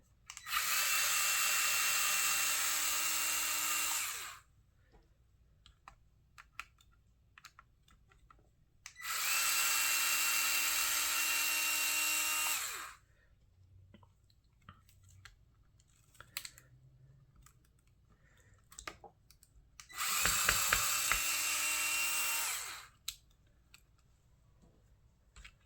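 A power tool drives out screws from an RC truck in three bursts of steady whirring, each about four seconds long, with quiet handling clicks in the pauses between.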